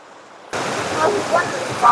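Creek water flows under a bridge in a Utah canyon, a sudden steady rush of broadband water noise close by, with a voice speaking over it.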